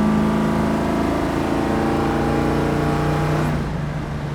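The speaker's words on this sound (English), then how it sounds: "The car gets up and moves, no problem." A 1971 Chevrolet Camaro cruises down a straight road, its engine droning in a steady, loud hum with a smooth, even pitch that eases off near the end.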